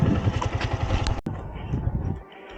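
A 2018 Yamaha MT-15 motorcycle engine idling with a rapid, throbbing putter, loud and close, cutting off abruptly before a quieter rumble continues.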